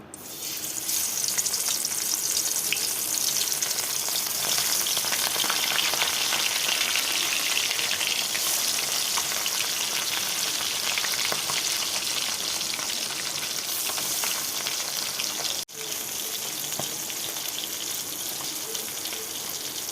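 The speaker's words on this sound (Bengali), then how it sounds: "তেলটা আমার গরম হয়ে গেছে। তো এখন আমি মাছগুলো দিয়ে দেবো।" Pieces of fish fry in hot oil in a home kitchen. A loud, steady, hissing sizzle fills the whole stretch, close and unbroken apart from one brief dip near the end.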